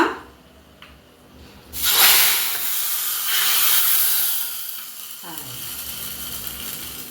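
Tempering spices dropped into hot oil for rasam set off a sudden loud hiss after a brief clatter, then ease into a steady crackling sizzle that fades slowly and stays close.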